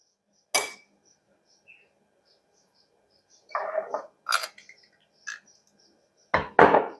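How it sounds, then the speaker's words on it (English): Knife scraping and tapping while peanut butter is spread on bread for a half sandwich, a few short, close clicks and scrapes separated by quiet gaps. "Add my peanut butter."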